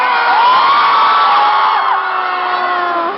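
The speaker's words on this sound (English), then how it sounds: "I think Morrie would be very, very happy to hear people screaming after you said his name." A large audience screams and cheers at a talk in Manila, a loud sustained wall of high-pitched shrieks and whoops that holds steady and fades slightly at the end.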